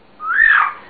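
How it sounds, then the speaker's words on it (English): A single clear whistle from a blue-fronted Amazon parrot rises and slightly wavers before fading, short and close with no other sounds. "it's a pretty whistle"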